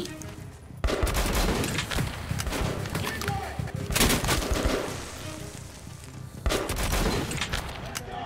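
Shotgun fire in the video game Metro 2033 comes as loud, repeated blasts and echoing bursts of gunfire, nearly continuous across the clip with a couple of fresh volleys.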